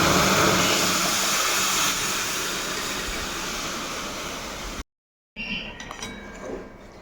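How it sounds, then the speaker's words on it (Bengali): Lentil dal poured into a hot frying pan, a loud continuous rushing sizzle that holds steady for several seconds, breaks off abruptly, then returns as softer bubbling with faint clinks. "এখন এইবারে ডালটা কিন্তু ঢেলে দেব"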